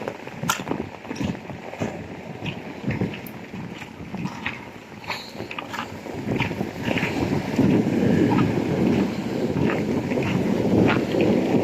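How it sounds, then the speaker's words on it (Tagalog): Strong wind in stormy weather buffets the microphone in a steady roar that grows louder and denser toward the end, with scattered knocks and clatters underneath. "napakalakas pa ng hangin"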